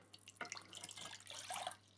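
Water from a mug poured into a saucepan: a short splashing, trickling pour heard close and fairly quiet, lasting about a second and a half.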